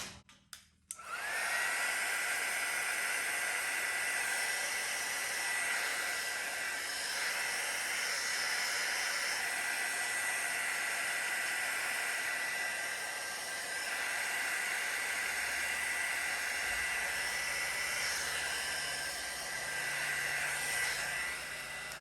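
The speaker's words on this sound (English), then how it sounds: "I'll just use my heat embossing tool" A heat embossing tool blows a steady hiss of hot air over fluid art paint on a drizzle swipe wreck spin piece, starting abruptly and holding a continuous close roar with slight waver throughout, with no talking.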